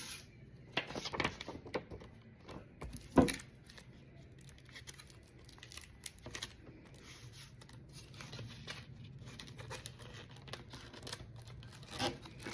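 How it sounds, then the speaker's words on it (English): Ordinary single-sided tape torn from a roll while assembling custom graduation Hershey bar wrappers, a short sharp rip near the start with light crinkling and handling of tape and paper continuing quietly throughout. "I don't have my two-sided tape with me today, so I am just going to use just my regular tape"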